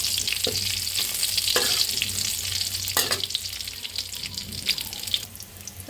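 Garlic and dried red chillies fry in hot oil in a pan for about six seconds, giving a steady close sizzle broken by a few sharp clinks of a spoon against the pan.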